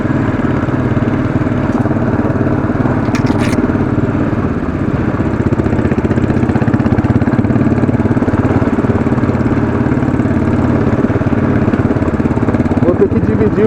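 Classic 500 motorcycle engine labouring steadily up a steep off-road trail, a continuous loud thumping drone close to the rider, with brief faint clicks and a voice in the background.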